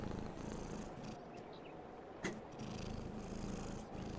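A pet cat purrs steadily and continuously close by, a loud, even rumbling with no talking over it.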